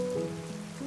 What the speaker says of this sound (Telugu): ఎంత పెద్ద వర్షం పడుతోంది.